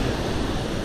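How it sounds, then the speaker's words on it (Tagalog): Sea waves surge and wash continuously during a typhoon at Dinahican, Infanta, Quezon, a dense broadband roar with wind buffeting, no voices. "Yung alon hanggang dito na oh."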